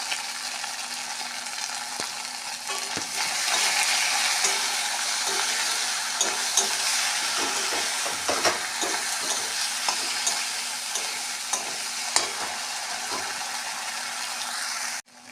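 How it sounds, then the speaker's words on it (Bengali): Spices with turmeric and salt fry in a pan for taro leaf greens, a continuous close sizzle with scattered scraping taps of stirring, no talk. "মশলাগুলো কষানো হয়ে গেছে"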